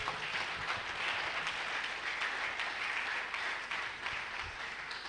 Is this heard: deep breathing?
no